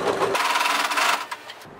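A sewing machine stitches skirt fabric in a short, fast burst of buzzing motor noise that stops abruptly, followed by a couple of faint clicks.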